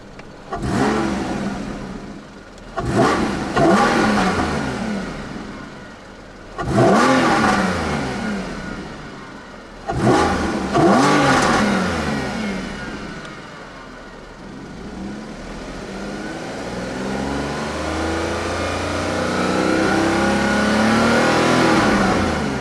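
A 2014 Porsche Boxster S engine revs sharply four times, each burst climbing and falling away, then settles into a rising, steady drone up close.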